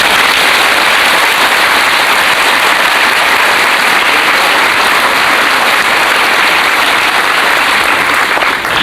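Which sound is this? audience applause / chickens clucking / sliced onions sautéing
audience applause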